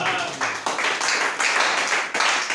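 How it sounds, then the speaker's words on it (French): A church audience bursts into loud, dense applause and cheering in pulsing waves, with voices mixed into the clapping. "Acclamez très fort pour lui."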